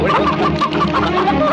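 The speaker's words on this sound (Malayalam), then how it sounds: "വല്യമ്മച്ചി, ഇയാള് നമ്മുടെ കോഴികളെ പിടിക്കുന്നു." Chickens cluck and squawk in a dense, agitated chorus as a man tries to catch them, continuous and close with no pauses.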